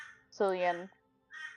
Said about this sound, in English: Apologies for the birds.